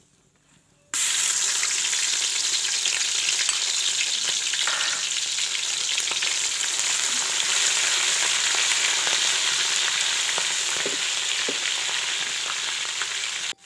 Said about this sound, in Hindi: अब ऑयल को खूब गरम करके इनमें लहसुन अदरक पेस्ट डालें